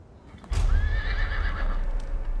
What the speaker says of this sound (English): Seeing those wild horses